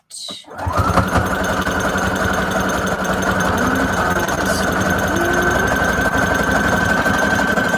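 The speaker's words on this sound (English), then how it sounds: "And let's do a zigzag stitch." A sewing machine runs continuously, stitching a zigzag pattern on fabric for a junk journal cover, a loud close mechanical rattle with a fast steady beat that starts abruptly and carries on without letting up.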